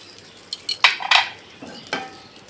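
Ginger paste being stirred in hot oil in a pan, with a few distinct metal spatula scrapes and clinks against the pan over a faint sizzle.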